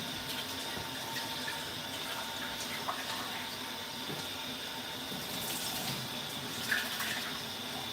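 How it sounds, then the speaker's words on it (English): Tap water runs steadily over a coffee cup being rinsed, a constant hiss and splash that holds for the whole stretch, with small clinks and knocks now and then. "Let me rinse my coffee cup in my straw."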